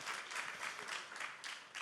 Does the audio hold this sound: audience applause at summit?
yes